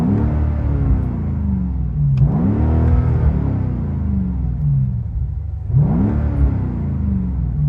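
A BMW M5 CS engine revs hard in sport mode with its exhaust valves open while parked in neutral: a loud, close, deep roar that swells through several rising revs and falls back to a rumbling idle between them, with no talking.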